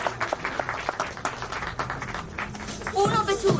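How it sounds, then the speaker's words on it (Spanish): Applause for film director Francisco Lombardi at a book fair in Arequipa, a moderate crowd clapping with scattered distinct claps, and voices coming through near the end. "un fuerte aplauso para Francisco Lombardi."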